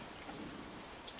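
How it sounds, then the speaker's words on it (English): Steady rain falls on a cold night, a soft, even hiss of drops on surfaces, faint and continuous with no voices. "It is raining, huh?"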